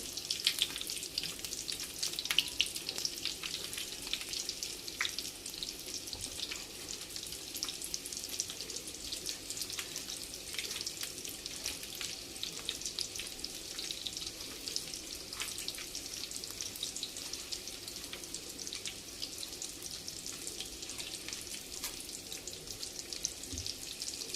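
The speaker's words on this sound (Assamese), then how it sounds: "কম জুইত ভাজিম।" A soft, steady sizzle of a chicken bread roll frying gently on a low flame continues throughout, with occasional faint pops and crackles.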